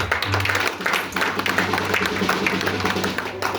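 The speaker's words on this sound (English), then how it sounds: "Can you clap your hands for my English?" A congregation claps during a church testimony service, producing a busy wash of hand claps and taps at a fairly loud level over a low steady hum.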